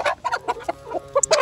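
An Aseel hen clucks in a quick, uneven series of short, close calls, with a higher squawk near the end and no talking.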